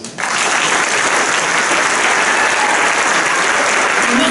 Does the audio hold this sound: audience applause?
yes